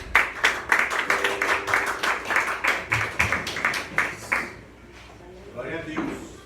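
A church congregation applauding during a worship service: a burst of rhythmic, fairly close clapping that lasts about four seconds, then breaks off to faint room noise and a few scattered sounds.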